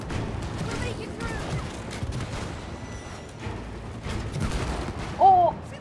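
Gunfire from the co-op video game It Takes Two crackles in quick bursts and rapid volleys over a continuous background of game sound effects and music.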